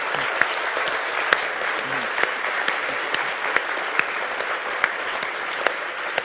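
Audience applause for Aardman and a slapstick comedy event host, a steady dense clapping from a live crowd with a few sharper claps standing out, continuous throughout.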